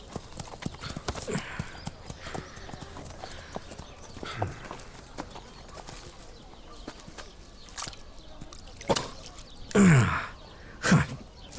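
Horses walk with sparse, uneven hoof clops. The steps are faint at first and grow louder and closer toward the end, with a few soft breathy sounds between them.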